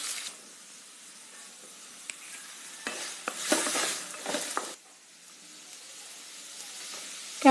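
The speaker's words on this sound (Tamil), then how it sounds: "இது எல்லாத்தையும் போட்டு நல்லா சேர்த்து வதக்கிக்குவோம்" Shallots, green chili, grated carrot and curry leaves sizzle in oil over a low flame with mustard seeds and urad dal, a steady faint hiss broken by a burst of spatula scrapes and stirring in the middle, with no talking.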